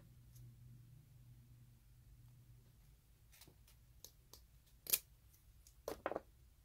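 Scissors make a handful of quiet, crisp snips while a DIY snowflake ornament is cut, spaced irregularly over a few seconds against near silence.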